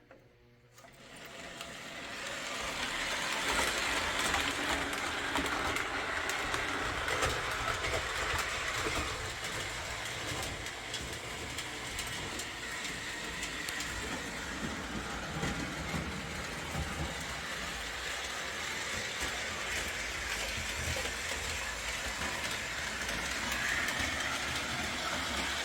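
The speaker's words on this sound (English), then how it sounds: "See, these are the toughest locomotives I have." Model train locomotives run on layout track with a steady faint rolling clatter that starts abruptly and continues for about twenty-five seconds, without talk.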